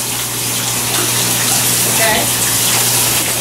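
A shower runs in a home bathroom: a loud, continuous rush of spraying water fills the whole stretch, with a brief spoken word over it.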